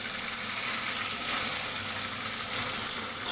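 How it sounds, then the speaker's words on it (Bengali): Tilapia fish frying in oil, a steady close hiss of sizzling with no talk. "তেলাপিয়া মাছ ভাজা হচ্ছে।"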